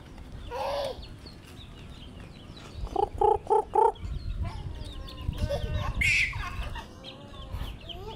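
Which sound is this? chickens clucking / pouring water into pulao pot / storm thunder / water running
chickens clucking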